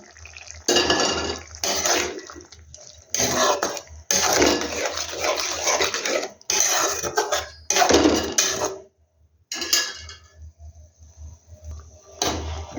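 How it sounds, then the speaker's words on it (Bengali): Goat liver pieces tipped into a pot of half-boiled potatoes, giving wet clattering and scraping bursts of spoon against metal with pauses between, fairly close and without talk. "এই আধা শক্ত অবস্থাতে আমি এখন এই মেটেগুলোকে দিয়ে দেব।"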